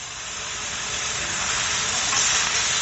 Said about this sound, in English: I'm going to go ahead and throw my fresh sausage in there also. Get that browned up too.